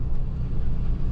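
Steady low engine and road rumble inside a moving car on the way to a stone quarry, a dense continuous drone with no talk.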